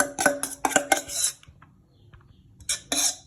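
Hard clacking and rattling of a manual hand chopper cutting chili for sambal, several quick bursts of chopping strokes separated by a short pause, close and loud with no voices.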